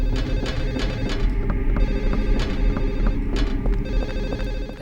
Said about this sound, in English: And that phone ringing can get annoying.